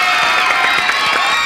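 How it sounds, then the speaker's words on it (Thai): Studio audience cheering and clapping in a dense, steady burst of whoops and shouts, loud and close throughout. "เอาปรบมือ"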